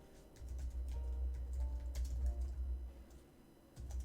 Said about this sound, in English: I don't know why I'm typing it wrong every single time.